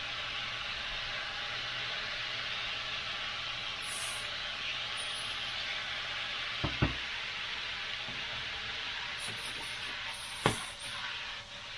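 Peppers, onions and steak frying in a pan, a continuous loud hiss of sizzling with a couple of sharp utensil clanks from stirring near the middle and end.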